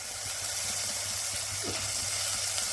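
A dense, constant hiss of hot oil sizzling as sprouted field beans are added to a tempering, with a faint low hum and a few small clicks underneath.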